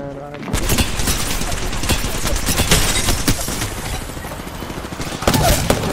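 Rapid, dense gunfire in the video game Apex Legends: overlapping shots and bursts crackle almost without pause for several seconds, loud and close, with a few heavier impacts near the end.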